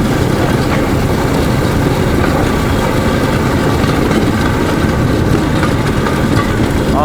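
A narrow-gauge peat railway train riding along the track at the Gorokhovsky peat works in Komsomolsky, a loud, continuous rumbling roar of wheels and engine heard from on board, steady throughout with no talking.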